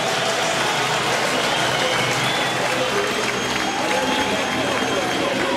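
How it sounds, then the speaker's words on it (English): Dense, steady roar of a large crowd cheering at a touring car race in Hungary, continuous and loud, with a commentator talking over it. "there's the roar of the crowd"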